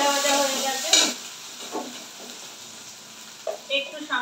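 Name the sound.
green beans frying and being stirred in a pan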